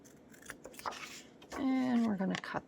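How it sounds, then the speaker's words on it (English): Scissors snip through the edge of paper for a junk-journal belly band in a couple of close, crisp cuts, with a voice talking softly around them. "and then I can cut the edge off. And we're going to cut this."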